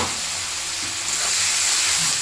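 Chopped garlic, ginger and onion hit hot oil with cumin in a pan, producing a loud, steady hissing sizzle that swells slightly partway through, heard close with no talking.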